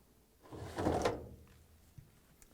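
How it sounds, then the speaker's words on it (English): Lint screen slid out of a Whirlpool dryer's door opening, a single rough scraping pull with a brief soft thunk, close and fairly clear, then a faint click afterward. "and remove the lint screen."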